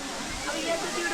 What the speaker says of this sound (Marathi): वरून धबधबा पण पडतो आहे